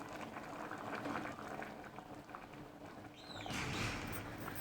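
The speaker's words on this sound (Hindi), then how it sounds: "चावल बॉयल होना स्टार्ट हो गए हैं।" Rice with green chillies boiling in a covered pot on a low flame, a soft continuous bubbling and rumble that swells louder near the end, heard close with no voices.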